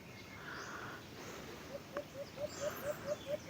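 A repeated bird call, short rising chirps in a steady series of about eight notes, faint over a hissy outdoor background.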